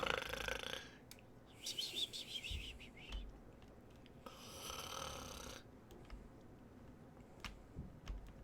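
A knocked-out enemy in the video game Prey snores softly, with slow, breathy rasping swells that rise and fade about three times over quiet background ambience.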